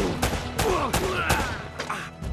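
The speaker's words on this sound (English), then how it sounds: "Using a shotgun" Shotgun blasts ring out in the Uncharted video game, several loud booming shots in quick succession with ringing tails, layered with dense game action noise and effects.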